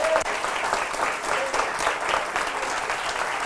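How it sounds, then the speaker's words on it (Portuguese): A crowd applauds steadily, dense clapping with a few cheers mixed in, continuing throughout at an even level. "vamos dar uma salva de palmas para os jantares"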